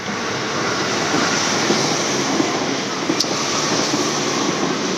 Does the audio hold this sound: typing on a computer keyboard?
no